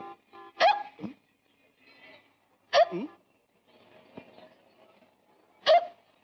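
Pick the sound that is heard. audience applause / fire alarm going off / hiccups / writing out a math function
hiccups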